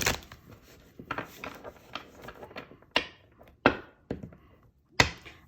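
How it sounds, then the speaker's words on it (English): Tarot cards being shuffled by hand, a run of crisp riffling flutters and sharp taps of the deck squaring up, close and fairly quiet with no voices. "let's do one more shuffle."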